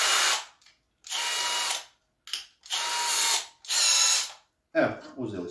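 Power drill driving a screw while building a DIY shelf: four or five close, loud bursts of whirring motor with short pauses between, the last one choppier and mixed with a brief voice.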